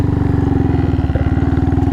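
A Honda Monkey motorcycle being ridden, its small engine putting out a steady, close, rhythmic thrumming putter at an even pace.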